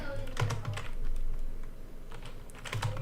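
Someone typing a git clone command on a computer keyboard, with bursts of quick, close key clicks separated by a pause and a steady low background hum.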